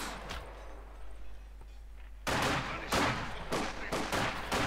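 A light machine gun in a Company of Heroes 2 battle fires several loud, rapid bursts after a quieter stretch of background battle noise.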